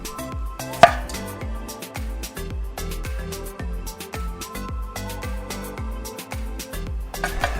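A knife chops vegetables for egg rolls on a cutting board in quick, regular strokes. The even rhythm of cuts runs over loud background music.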